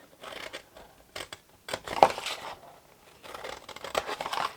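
Scissors snip through patterned designer paper for a mini champagne gift box craft, making a run of close, crisp cuts with brief pauses between bursts, with no talking.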